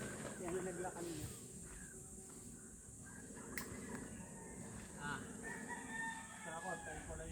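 Rooster crowing at a rural property overlooking Taal Lake in Talisay, Batangas, a moderately distant call heard under people talking and other background birds.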